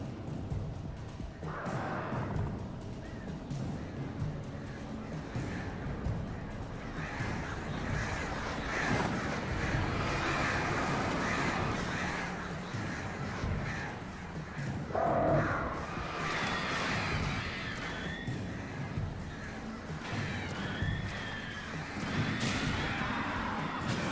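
Crows caw in the Alan Wake video game, harsh repeated calls rising over a busy, noisy game soundscape for the whole stretch, with occasional thuds and no speech.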